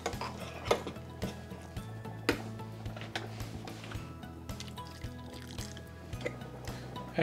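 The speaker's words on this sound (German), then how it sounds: "verrühre das Ganze." A spoon stirs agar-agar into hot water in a bowl, producing rapid clinks and scraping taps against the dish in an uneven rhythm, close and moderately loud, with no talk.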